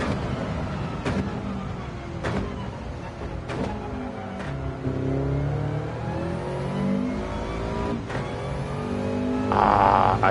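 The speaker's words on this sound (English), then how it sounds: "hit the rev limiter" A race car in Gran Turismo 7 at Fuji, engine revving and bouncing off the rev limiter with gear shifts and a rising whine, steady and close, loudest near the end.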